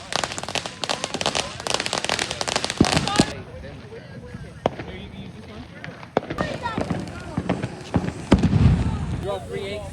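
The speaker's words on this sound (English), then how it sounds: "Watching the fireworks." Fourth of July fireworks and firecrackers go off outdoors in dense crackling bursts with sharp bangs at varied distances, loudest early on, while people talk and cheer nearby.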